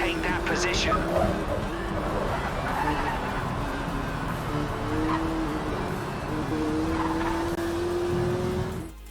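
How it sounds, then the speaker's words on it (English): Race cars in Project Cars 3 drone through a final lap, a steady muffled engine tone with rising pitch sweeps as gears change, running continuously at moderate loudness with some tyre noise. "when it comes to the sounds of the vehicles, they just don't sound as authentic"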